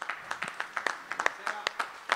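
Concert audience applauding a bass player as he is introduced, a light, fairly distant patter of scattered claps with a steady rhythm, faint and with no talk over it.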